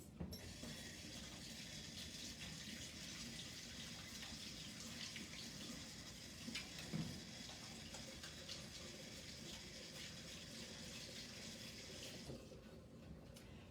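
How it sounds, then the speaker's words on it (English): Tap water runs steadily for hands being washed at a kitchen sink while cooking, a continuous hiss with faint clinks, stopping abruptly near the end. "now I have to wash my hands"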